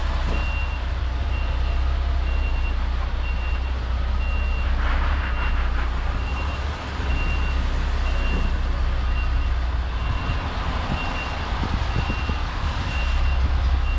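Steady electronic reversing beeps from a lorry repeat at an even rhythm over a constant low truck engine rumble, with occasional clanks and yard noise around them.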